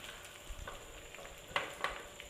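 Pieces of broiler chicken meat fry in a pan with a soft, low sizzle, with a couple of sharper pops and light utensil taps standing out over the quiet background.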